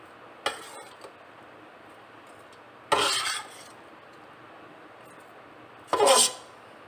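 Fried onions being stirred into vegetable and corn pulao in a pot, heard as three short, separate scraping strokes of a spoon against the pot, spaced a few seconds apart with quiet pauses between them.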